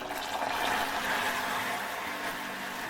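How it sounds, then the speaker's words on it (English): Water goes into hot caramelized sugar, a loud, continuous hissing and bubbling rush that stays strong throughout, with no voices over it. "I'm going to add in my water very carefully, very slowly"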